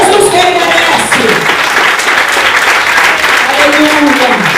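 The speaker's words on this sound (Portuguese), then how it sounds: "Então bate palmas para Jesus, que ele merece." A church congregation claps for Jesus, a loud, sustained burst of many hands clapping together, with voices calling out over it.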